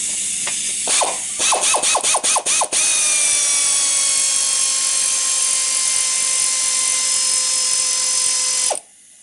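Wrench work on 12mm exhaust bolts on a Yamaha G1 golf cart: a quick series of close, sharp ratcheting clicks, then a long steady mechanical whine that cuts off abruptly near the end, with no talking.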